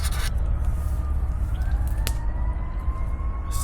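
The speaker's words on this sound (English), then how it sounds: "Sirens going on." Wailing sirens rise and fall in pitch over a low rumble of traffic, steady and fairly loud, with no talking.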